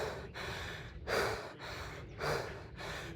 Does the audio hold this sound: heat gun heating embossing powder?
no